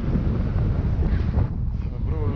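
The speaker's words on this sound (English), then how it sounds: "Strong wind." Strong wind buffets the microphone in a steady, loud roar that dominates throughout, with low rumbling gusts and no other distinct sound standing out.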